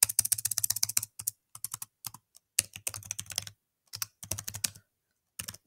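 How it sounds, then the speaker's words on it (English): Bursts of fast, crisp keystrokes on a computer keyboard while entering text for an MLA format document, close and clear, in several short runs separated by brief pauses with no talking. "So I'll type that in."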